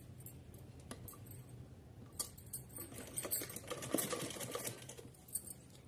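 A sewing machine stitching red fabric in a straight seam, faint rapid mechanical ticking in short runs that grows busier toward the end, quiet and close, with no talk.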